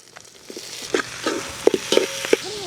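Onion, green chili and tomato frying for a biryani in a pan, with a soft sizzle under a run of stirring scrapes and clinks that grow louder and sharper toward the end, close by and without talk.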